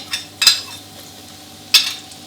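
Two sharp sizzling bursts as sliced shallots hit hot oil, with faint clinks of a utensil in between, near and otherwise quiet.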